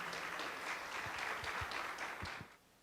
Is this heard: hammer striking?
no